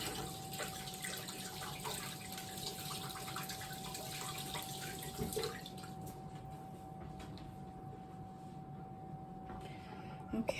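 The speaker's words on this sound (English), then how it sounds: "my hands are really sticky from that, so I'm going to wash them really quick" A sink tap runs steadily as sticky hands are rinsed under the water, a close, even wash of splashing that continues for the whole stretch with a faint hum beneath and no speech.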